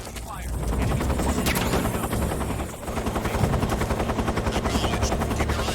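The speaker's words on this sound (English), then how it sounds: "We're under enemy fire." Dense gunfire from Metal Gear Solid 3 rattles in rapid bursts over a steady low engine-like rumble, loud and continuous with a brief dip midway, no speech heard.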